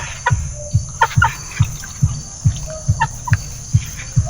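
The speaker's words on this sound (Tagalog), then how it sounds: "Oh, mga manok." Chickens cluck in short repeated bursts at a steady rhythm, close by, with a constant high insect-like hum in the background.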